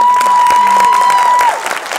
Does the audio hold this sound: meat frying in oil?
no